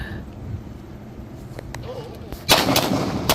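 Beretta M9A4 pistol firing outdoors, a loud sharp double shot late in the clip after quieter ambient noise and faint earlier sounds.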